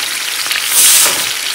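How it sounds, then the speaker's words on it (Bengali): Short burst of hot oil spattering and sizzling in a pan, close and fairly loud, swelling briefly in the middle. "আবার কীভাবে তেল ছিটাচ্ছে"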